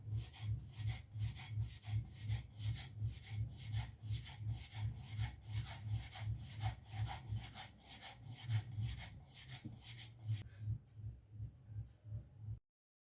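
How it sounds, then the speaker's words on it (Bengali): Palms roll rice flour dough into thick strands for chushi pitha, making soft, quiet rhythmic rubbing swishes in an even back-and-forth pattern that stops near the end. "এবার আমি হাতের তালুর সাহায্যে এভাবে মোটা মোটা করে তারের মতো তৈরি করব।"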